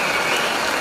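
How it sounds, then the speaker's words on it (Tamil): Dense, steady applause from a meeting audience fills the whole moment, a continuous close wash of many hands clapping with no pauses. "இந்த கைதட்டு பத்தாது"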